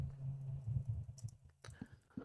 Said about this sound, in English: hear us both typing